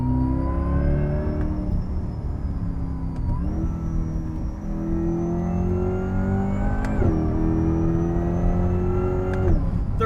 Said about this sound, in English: you have the supercharger whine